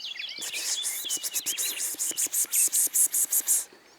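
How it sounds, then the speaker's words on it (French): A small bird sings a rapid series of bright, high chirps and trills, close and clear against a faint background hiss, with no talking, outdoors in Kabylie. "On entend un chant d'un oiseau."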